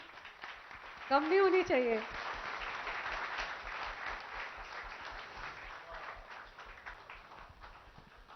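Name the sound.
applause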